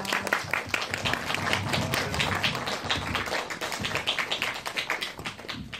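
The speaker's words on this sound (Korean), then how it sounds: "두 분 들어오시니까 큰 박수로 맞아주세요" An audience claps steadily and fairly loudly for about six seconds, welcoming two guests arriving at an indoor cinema talk event, a dense patter of many hands without voices over it.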